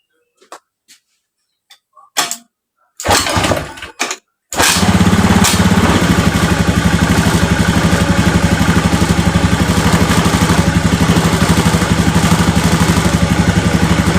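A Honda Vario 110 injection scooter with a weak battery and charging-circuit trouble gives a few clicks and short cranking bursts, then the engine catches and idles loudly and evenly nearby.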